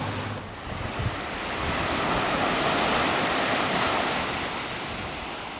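Surf rolls onto a Caribbean beach at Antigua, a broad continuous wash of waves that swells and eases, mixed with gusty wind buffeting the microphone and no talking.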